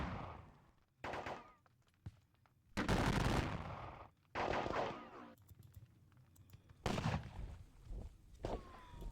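Musket volleys in the Napoleonic wargame WDS Valmy, several loud crackling bursts of gunfire separated by short quiet gaps, with rattling scattered shots in between.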